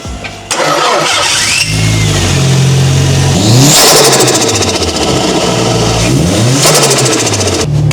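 An SR20-engined Toyota Altezza revs hard on a test drive, its engine note climbing and falling through several loud, close rising sweeps as it accelerates and shifts, with no talk over it.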